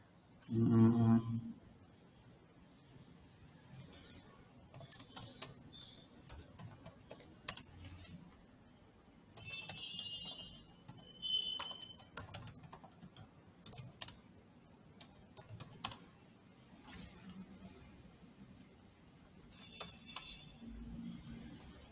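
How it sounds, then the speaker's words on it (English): Typing on a computer keyboard: bursts of close, light key clicks in an uneven rhythm through a quiet room, with a voice briefly heard at the start. "So I will type it here"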